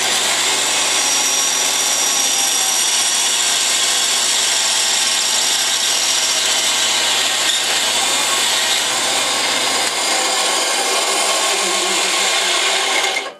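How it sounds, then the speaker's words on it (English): Wood being shaved down with a tool while making a pen from forest wood, a continuous loud rasping, grinding noise that runs steadily throughout and stops abruptly at the end, with no talk. "I'm just going to take shavings off of that just like that until I get pretty close where I want."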